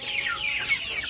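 Chicks about two months old on a poultry farm give a continuous run of high, sweeping chirps and peeps. The sound is close and moderately loud, with no talk over it.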